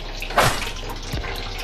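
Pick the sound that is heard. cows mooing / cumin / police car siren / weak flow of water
weak flow of water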